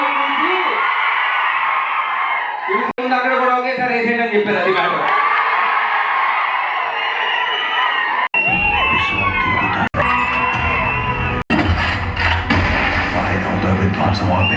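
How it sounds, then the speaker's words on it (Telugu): A large crowd shouts, whoops and cheers loudly throughout a Ravi Teja Eagle movie trailer launch event at AAA Cinemas, with someone speaking over the din and brief cutouts. "మీ అరుపులు కేకలు"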